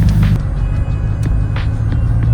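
A car engine revving from inside the vehicle: a loud, deep rumble that holds steady for a couple of seconds, with a few brief knocks and clicks over it.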